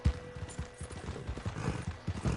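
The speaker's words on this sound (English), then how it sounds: "running my horse around." Horse hooves pound in a video game, a quick, uneven clatter of clip-clop beats running on without pause, fairly soft and with no talking.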